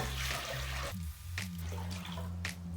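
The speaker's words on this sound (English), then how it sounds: "put it into a pot, and then we're going to add 8 cups of water" Water pours from a tap into a pot holding white rice, a steady close rushing gush with a faint low hum of a kitchen appliance underneath and no talking.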